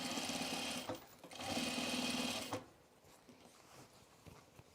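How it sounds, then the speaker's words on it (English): Sewing machine understitching a trouser facing, two close bursts of steady motor whir and needle chatter, the second longer, then stopping into quieter handling noise. "We're going to press the seam toward the facing and understitch."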